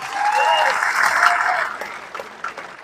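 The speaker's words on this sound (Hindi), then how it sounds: "एक बार उनके लिए जोरदार तालियां हो जाए।" A crowd of audience members at a stage event bursts into loud applause, a dense roar of clapping with some cheering that holds strong and then begins to fade and break up toward the end.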